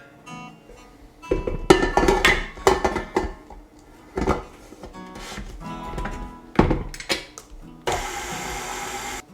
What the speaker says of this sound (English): we're going to mix it in the KitchenAid until it's a nice consistent dough